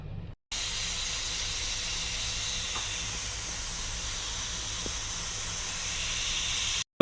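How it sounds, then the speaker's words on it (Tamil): A stovetop pressure cooker cooking biryani kushka rice lets out a loud, steady steam whistle that hisses continuously for about six seconds before cutting off abruptly. "இப்போ பார்த்தீங்கன்னா குக்கர் வந்துட்டு ஃபஸ்ட் விசில் அடிச்சிருச்சு"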